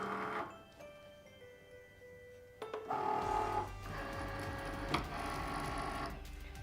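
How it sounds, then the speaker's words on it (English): A Cricut cutting machine draws in a cutting mat with vellum applied, giving a steady mechanical whir and hum with small clicks and a louder motor surge partway through, close by with no talking. "And then we're going to load it into our Cricut."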